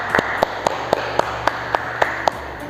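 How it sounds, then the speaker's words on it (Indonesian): A handful of sharp, evenly spaced claps, about eight or nine in a row, for Donald at a reading club session, crisp and fairly close over a faint background hum. "Wah, tepuk tangan dong buat Donald."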